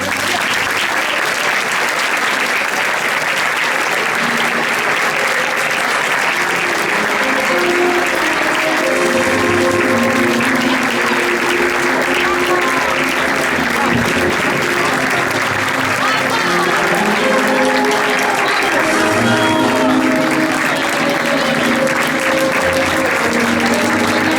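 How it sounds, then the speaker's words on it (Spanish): Sustained, loud applause from an audience at a 2020 children's representatives proclamation, greeting the child president; dense steady clapping fills the whole stretch, with crowd noise and voices mixed underneath. "Rebem un fort aplaudiment al nostre president infantil, xiquet Juanjo Fernández i Muñoz."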